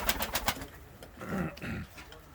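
Pigeons coo softly nearby in a coop, a couple of low throaty calls following some brief clicking and shuffling sounds, with faint voices in the background.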